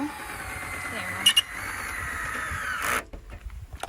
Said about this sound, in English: I can use the drill to put the stabilizer decks down and up instead of having to manually crank it.